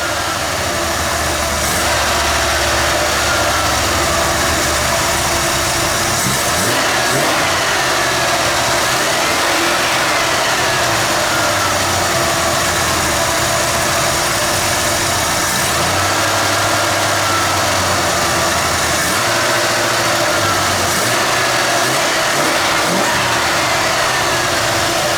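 A junkyard Bullnose Ford engine idling cold on choke, a loud, steady mid-pitched rumble with slight surges in speed, heard up close throughout with no voices.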